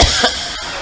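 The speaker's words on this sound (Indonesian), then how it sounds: "Nah itu batuk." A single short cough from a man, close and fairly loud, one quick burst with no talk over it.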